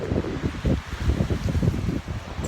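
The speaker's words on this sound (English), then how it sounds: "It's windy." Cold winter wind gusting outdoors during a storm, a steady low roar buffeting the microphone in uneven surges for the whole stretch, with no voices over it.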